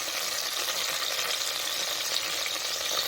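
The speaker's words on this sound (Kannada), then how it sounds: "ಇಷ್ಟು ಹಾಕಿ ಚೆನ್ನಾಗಿ ಫ್ರೈ ಮಾಡ್ಕೊಳ್ಬೇಕು ಅದೆಲ್ಲ ಫುಲ್ಲು ಫ್ರೈ ಆಗಬೇಕು" Bay leaves frying in hot oil at the start of a chicken biryani give a steady, dense sizzle that holds evenly for the whole stretch, close and fairly loud, with no voices.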